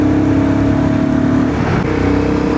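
A Royal Enfield Guerrilla 450 motorcycle runs at speed with a steady, loud engine drone and rushing wind noise, a constant note that dips slightly midway.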